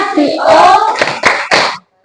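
Children in a primary classroom clap their hands in a short patterned class cheer, a few bursts of claps in quick succession, close and fairly loud, ending with a brief pause.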